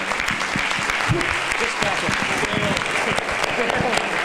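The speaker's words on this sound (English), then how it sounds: "One last round of applause, please, for this incredible panel." Audience applause for a keynote speaker panel at a conference, a dense, steady wash of many hands clapping for several seconds, with voices talking over it.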